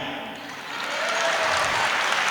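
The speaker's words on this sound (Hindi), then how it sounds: "तालियां" An audience at a mushaira breaks into applause that starts modestly and swells into full, sustained clapping over a couple of seconds.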